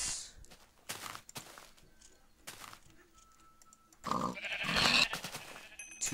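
A sheep in the Minecraft video game lets out one close, wavering bleat after a run of light clicks and soft footsteps, with a second short bleat trailing at the end.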